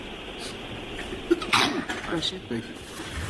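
A single sharp sneeze bursts out over low courtroom noise, followed by a few quiet spoken words.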